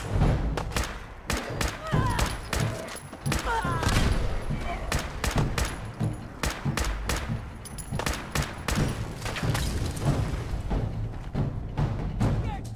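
Fallout 4 combat erupts in rapid overlapping gunfire, dense bursts of shots and thuds continuing throughout, loud and close with game voices shouting in between.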